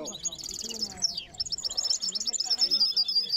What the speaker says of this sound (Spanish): Buenos pájaros se escuchan aquí.